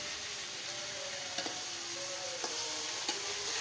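Onion masala and tomato fry in a pan, a continuous sizzle broken by three sharp stirring clinks from a utensil against the pan, fairly close and with no talk.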